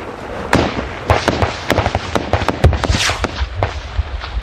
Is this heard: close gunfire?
yes